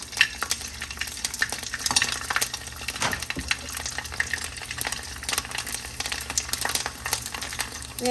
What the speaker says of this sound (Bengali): কড়াইতে তেল দিয়ে দিয়েছি এখন সাবুর পাপড় ভেজে নেব